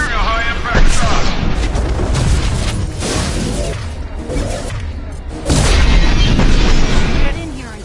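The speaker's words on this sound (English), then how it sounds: "Firing a high-impact shot." High-impact gunshots in Mass Effect 2 boom heavily amid ongoing combat noise, with loud blasts and whooshes, the strongest burst late on, and voices talking in the fight.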